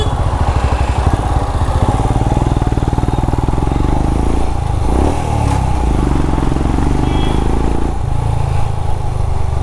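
A motorcycle engine stuck in a false neutral revs hard and close, with rapid, throbbing firing pulses and a few surges and dips, heard alone without talk.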